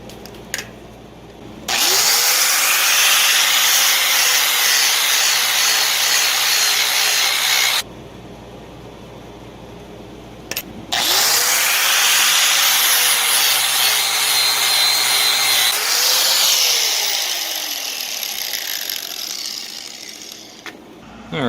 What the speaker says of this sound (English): on the face of the anvil here that we're still filing down here, but should be a few more passes with this 36 grit